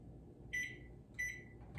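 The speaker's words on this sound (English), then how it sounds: "So this takes approximately about 2 minutes in my microwave." A kitchen microwave oven being started to pop popcorn in a popper gives three short, bright electronic beeps spaced evenly over a low background hum, fairly quiet and with no talking.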